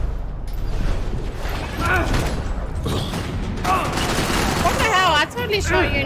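Gunfire in the video game Max Payne 3, a dense run of sharp shots and mechanical clatter filling the scene, with someone talking over the action.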